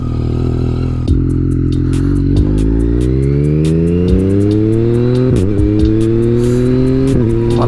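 A Yamaha MT-09 three-cylinder motorcycle, restricted to A2 at 47.5 horsepower, revs loud and close while riding. The engine note climbs steadily through each gear, drops at every shift and climbs again, with a raspy growl the whole way.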